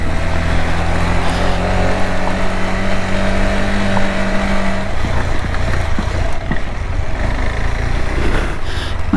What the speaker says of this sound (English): Very steep with plenty of loose rocks. You can't use the brakes because the motorcycle just starts sliding.